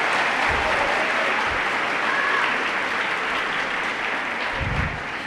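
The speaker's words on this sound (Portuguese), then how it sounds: "Pode aplaudir." Congregation applause during a church service, a dense, sustained wash of clapping filling the room, fading slightly at the end with no talk over it.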